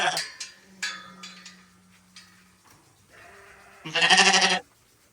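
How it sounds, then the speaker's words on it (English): Sheep in a homestead yard bleat several times, close and clear, with one long, loud bleat near the end and shorter calls earlier amid quieter background sounds. "So we're back to having sheep in the yard."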